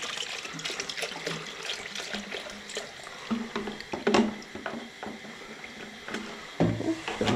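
Coolant drains from a Ford Probe during basic maintenance, a close, steady trickling and splashing of liquid with small gurgling bursts, heard alone without talk.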